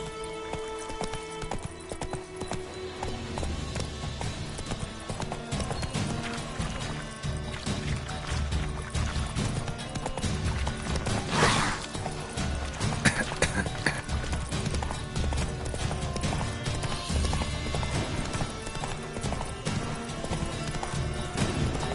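Horse hooves in the video game The Witcher 3: Wild Hunt, a steady, continuous clip-clop of a riding horse over a dense ambient game soundscape, with occasional louder thumps and brief voices in the mix.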